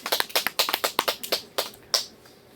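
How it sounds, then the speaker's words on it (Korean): A few scattered, uneven hand claps from a church congregation during a Korean Sunday worship service, quick sharp slaps at close range fading out after about two seconds. "다시 한번 박수."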